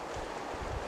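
Wind blowing steadily across an outdoor campsite where a shelter is being set up, a continuous broadband rush with low gusting rumbles, fairly loud and unbroken, no voices over it.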